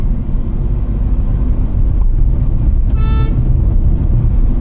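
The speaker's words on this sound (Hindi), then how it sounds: "काफ़ी देर से गाड़ी चला रहा हूँ अभी" A car driving on an Indian highway on the Karauli to Betul route, near the Kota–Jhansi highway, gives a loud, constant low road rumble from close by, with a brief horn toot partway through.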